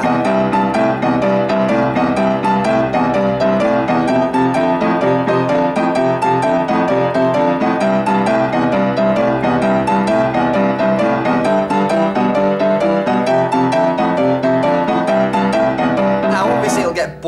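Piano playing a boogie woogie riff with both hands, a dense, driving, steady rolling pattern that is loud and continuous for about seventeen seconds.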